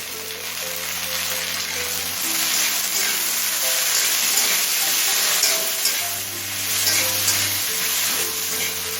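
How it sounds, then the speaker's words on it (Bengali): Chopped tomato stir-fried with browned onion in a pan sizzles continuously and fairly loudly, with occasional stirring scrapes, over a faint steady tonal hum in the background. "টমেটোটা মিনিট খানিক নাড়াচাড়া করে নিয়ে"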